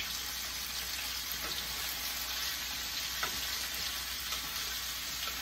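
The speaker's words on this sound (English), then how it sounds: "So, we're gonna stir." Potatoes fry in a pan while being stirred, producing a loud, steady sizzle with a few soft scraping touches, close and continuous, no talking.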